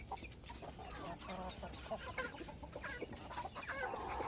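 Backyard chickens, including Starlight Green Egger and Prairie Bluebell hens, cluck and chatter faintly in a steady, overlapping flock murmur with scattered louder clucks.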